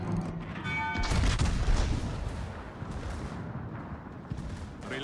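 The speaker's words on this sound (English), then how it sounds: "Okay, they are shooting him." Naval gunfire from warships in World of Warships booms in rapid overlapping salvos, dense and loud at first, then a rumbling barrage that continues steadily underneath.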